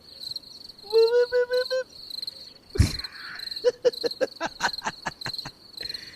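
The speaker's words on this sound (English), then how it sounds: "Crickets." Crickets chirp in rapid repeated bursts, close and fairly loud, with a steady high trill running throughout and a brief thump midway.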